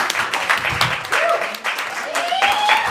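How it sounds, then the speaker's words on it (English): A comedy club audience applauds and claps after a stand-up set, a steady dense patter of hands filling the room, with a voice speaking over the clapping. "Let's keep that round of applause going around the stage."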